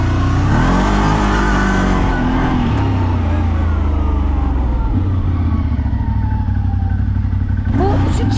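A CF Moto 1000 engine accelerates steadily and smoothly, a loud, close, continuous drone that rises and shifts in pitch through the run, with a brief clattering burst near the end.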